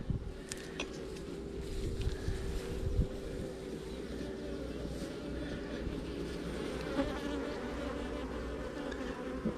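A dense, steady drone of honeybees buzzing around an open beehive, close and continuous throughout, with faint handling noises and no talking.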